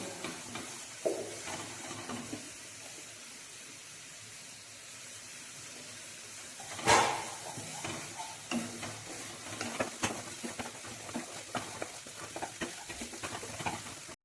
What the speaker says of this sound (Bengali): মশলাটা আরো একটু ভালো করে নাড়িয়ে এটার মধ্যে সামান্য চিনি অ্যাড করব